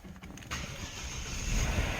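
A gray Genesis G80 sedan with about 29,000 km on it starts up: a short cranking flutter, then the engine catches at half a second and settles into a smooth, quiet idle that swells slightly near the end.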